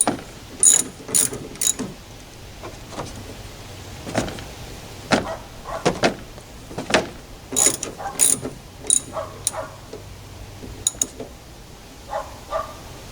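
A ratchet wrench clicks in short bursts of sharp ratcheting ticks while a bolt on a broken Toyota Tundra tailgate is tightened, the clicks close and fairly loud, spaced irregularly with pauses between strokes.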